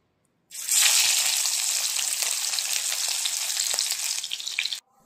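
Food frying in a pan gives a loud, steady hiss that starts abruptly, runs for about four seconds and then cuts off sharply, with no voices.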